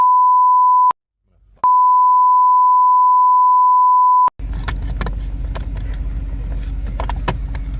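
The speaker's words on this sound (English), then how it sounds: "beep." A steady electronic tone beeps twice, a short burst then a longer sustained one, while a dash cam is hard-wired into a 2023 Ram 2500 truck, followed by engine and cabin rumble with faint clicks.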